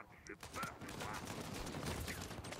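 Gunfire from Uncharted 4 multiplayer, a burst of rapid shots heard faintly in the background of the game mix.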